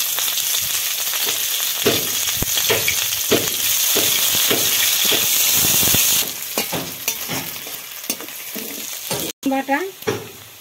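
Chopped onion hitting hot oil with cardamom, cloves, cinnamon, cumin and two bay leaves gives a loud steady sizzle with scraping stir strokes, easing after about six seconds into quieter crackle and clinks.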